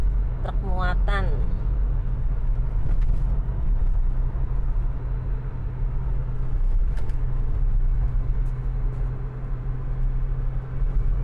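At night on a southern route road near Kebumen, vehicle traffic, mostly loaded trucks, rumbles past as a steady low engine drone with passing swells, heard from inside a moving vehicle with someone talking over it.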